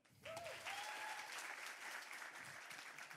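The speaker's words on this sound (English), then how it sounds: "please applaud" Audience applause at a science talk event, a quiet but continuous patter of clapping from a seated crowd after an introduction, with a faint whistling tone near the start.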